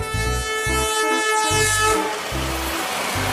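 A Thomas the Tank Engine toy train's electronic tune plays loudly, with pulsing low chugging bursts and a bright whistle-like melody over it; no one speaks.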